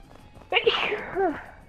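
A single sharp sneeze bursts out close by after a brief quiet moment, then trails off.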